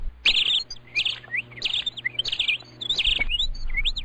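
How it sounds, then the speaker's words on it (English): Several birds chirp overhead in bright, repeated tweeting bursts, close and lively, with brief low thumps between calls. "Look at those birds happily chirping above your head."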